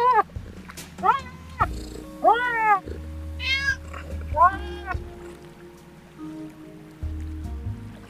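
Cartoonish cat meows from the video game Yoku's Island Express, several short rising-falling calls spaced across the stretch over low music and ambient game sounds, with a voice talking faintly beneath.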